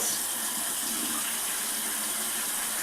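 Tap water runs steadily into a sink while a caked bronzing makeup brush is wetted, a constant close hiss with no speech.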